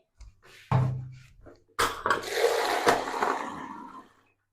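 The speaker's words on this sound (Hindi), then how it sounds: "अब इसमें हम पानी डालेंगे।" Water poured into shampoo during a hair-care routine: a sharp splash followed by a sustained gushing pour that fades out, close and fairly loud.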